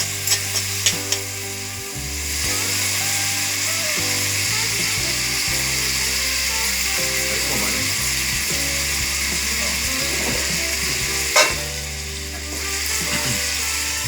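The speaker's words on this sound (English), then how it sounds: "Let it simmer for a while." Ackee and saltfish simmering in a pan, giving a steady, close sizzle and bubbling hiss with occasional utensil clicks and scrapes against the pan.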